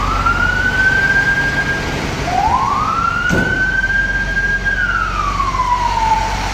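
A loud fire engine siren wails, rising and falling in long sweeps, close and continuous over steady traffic rumble.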